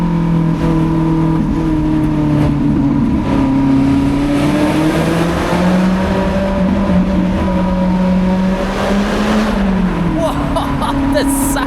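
A Lotus Elise engine drones steadily while driving over the Sustenpass mountain road, its pitch rising and falling with the throttle, loud and close from inside the car, with a voice talking over it.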